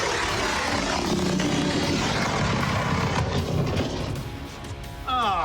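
Candy-fuelled rocket launching, a loud roaring rush of exhaust that holds steady for several seconds, then fades and ends abruptly.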